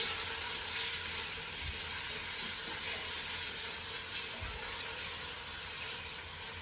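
Meat browns in a single layer in a pot over a very high flame for chili, a steady, loud, close sizzle and hiss with no voices.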